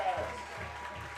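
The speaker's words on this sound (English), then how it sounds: "as the crowd greets them" A crowd applauding as the Central Clarion team arrives for a high school football game against Kirtland, steady clapping under a commentator's voice.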